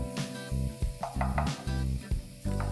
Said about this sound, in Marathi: ह्यात घालूया थोडीशी कोथिंबीर, थोडंसं परतून घ्यायचंय.